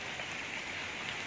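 Heavy rain pours steadily during stormy weather in Bicol, a dense, even hiss of drops on surfaces lasting throughout without any talking.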